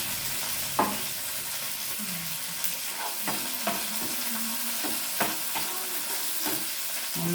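Curry leaves hit hot oil already frying green chillies for a mackerel curry, giving a steady loud sizzle with occasional sharp pops and stirring clinks throughout.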